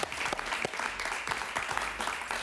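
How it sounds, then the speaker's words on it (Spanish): Studio audience applause on a television interview set, a steady patter of claps at moderate distance, fairly faint and continuous with no talk over it. "Un aplauso para él, por favor."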